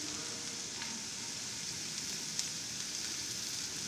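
Carrots cook with spices in a pan for a quick healthy snack, giving a steady, quiet sizzle that runs unbroken throughout with a faint tap or two.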